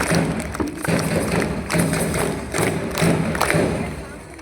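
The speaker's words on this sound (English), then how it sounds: "Let us welcome our champion with a thunderous applause" At a high school sports awards ceremony, the crowd gives a student athlete champion loud, sustained applause, with heavy rhythmic claps coming in waves throughout and some crowd noise mixed in.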